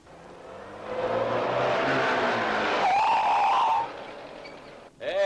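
A car approaches and passes close by, its engine and tyres rising to a loud swell with a pitch sweep before fading, followed by a brief sharper sound at the end.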